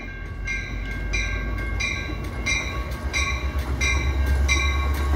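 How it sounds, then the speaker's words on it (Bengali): A Metra commuter train bound for Chicago rolls into a station, its steady low rumble and wheel noise carrying throughout with regular rhythmic clatter pulses as the cars pass close by, no voices present. "ট্রেনটি এখন স্টেশনে ঢুকছে।"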